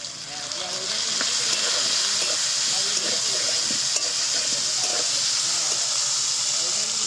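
Chopped tomatoes hit hot oil in a pan while cooking a vegetarian pumpkin dish, giving a steady, loud hissing sizzle that holds at full strength throughout, with no voice over it.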